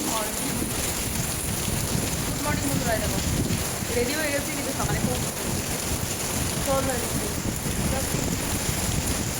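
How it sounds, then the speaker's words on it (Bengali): Heavy rain pours steadily by the sea in Puri on a morning downpour, a dense continuous hiss with low rumbling wash underneath, close and unbroken throughout. "কি অঝোর ঝরে বৃষ্টি হচ্ছে"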